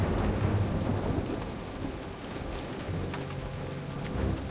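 Steady rain pours down with low thunder rumbling at a dock in the Jurassic Park video game, a dense, continuous wash of noise throughout.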